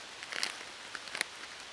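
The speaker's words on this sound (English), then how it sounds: "You can hear the rain all the way around us." Light rain patters on a camp canopy around an overnight campsite, with sparse, soft drops ticking at close range and no talk.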